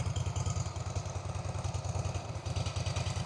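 A Harley-Davidson Softail Slim with a Twin Cam V-twin and stock exhaust idles close by, a loud, lumpy, rhythmic potato-potato thump that stays steady throughout.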